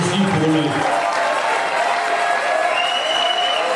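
Applause and cheering from a church congregation at a French-language evening service, loud and continuous, with dense clapping and raised voices filling the whole moment.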